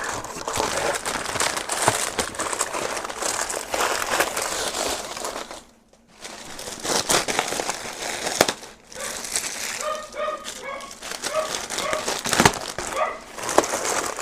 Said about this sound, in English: That would be a weenie dog.